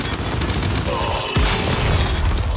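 Gunfire and a heavy boom from the video game Gears of War rattle through a loud, dense mix of game action, with a voice speaking over it.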